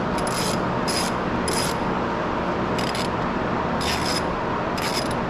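Ratchet backing T30 Torx screws out of a carbon fiber steering wheel on a GTR, a series of short bursts of rapid pawl clicking over a steady background hiss, with no one speaking.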